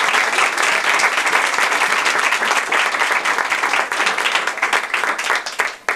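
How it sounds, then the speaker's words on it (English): An audience at a Toastmasters meeting gives a round of applause, a loud, dense burst of many hands clapping that holds steady, then thins and trails off near the end. "So let's just give another round of applause to Daryl."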